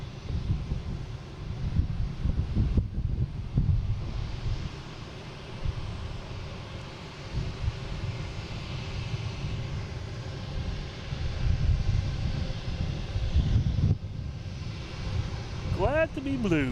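A JetBlue airliner arriving at Boston Logan roars steadily from a distance, a broad low rumble under wind noise on the microphone, with a few faint tonal whines near the end.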